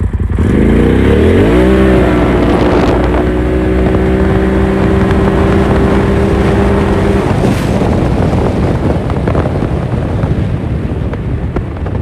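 A 2021 Polaris RZR XP Turbo with a Trinity exhaust accelerates hard from a standstill on gravel in four-wheel drive. The engine note rises quickly, then holds a steady loud drone for several seconds under heavy wind rush before fading into wind noise.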